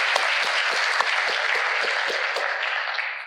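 Audience applause at a breathwork presentation, an even burst of clapping from a group sustained for a few seconds, fairly loud and close.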